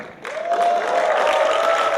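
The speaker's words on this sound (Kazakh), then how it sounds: "Сіздердің шапалақтарыңыз мені қуантырады." A concert hall audience breaks into applause after a brief quiet start, the clapping swelling quickly and holding steady, with a sustained tone ringing faintly above the crowd noise.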